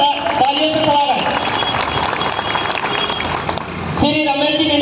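Clapping rises from the crowd at an Adivasi protest rally in Jhabua, a sustained wash of applause that eases slightly before a voice returns near the end.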